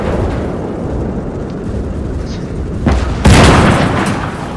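A German anti-tank gun with a muzzle brake fires a HEAT round in the World War II game Gates of Hell: Ostfront, a sharp heavy boom breaking through low rumbling battlefield ambience near the end, followed by a lingering roar.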